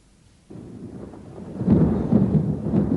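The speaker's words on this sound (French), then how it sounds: "Oh, la pluie maintenant, il manquait plus que ça." A cartoon storm breaks after a moment of near silence: rain hisses in, then a deep rolling thunder rumble swells and lingers, loud and close.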